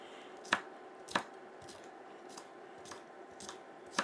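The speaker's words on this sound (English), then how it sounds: "I'm just going to drag my knife through the whole pepper all the way around the sides of it" A knife cuts around a bell pepper on a board, giving six crisp, evenly spaced cutting snaps, close and clear against a quiet background.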